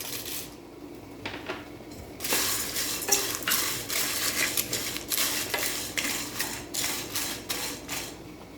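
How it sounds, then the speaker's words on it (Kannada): Cardamom, black cardamom, peppercorns and cloves for homemade Hyderabadi biryani masala go into a pan, with light rattling, scraping and clinking of spices and utensil that grow busier after the first couple of seconds. No one speaks. "ಯಾಲಕ್ಕಿ, ಕಪ್ಪು ಏಲಕ್ಕಿ ಹಾಕ್ತಾಯಿದ್ದೀನಿ, ಕಾಳು ಮೆಣಸು, ಆಮೇಲೆ ಯಾಲಕ್ಕಿ, ಲವಂಗ"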